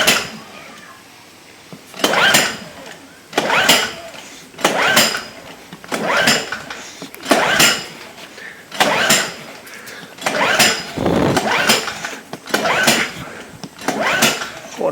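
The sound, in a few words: Fuji Micro 3700ER generator being pull-started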